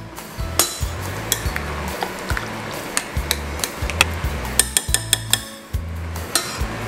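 Shrimp being mixed with marinade in a bowl for grilled shrimp barbecue, a steady run of sharp clinks and knocks from a utensil against the bowl, close and fairly loud, quickening toward the end.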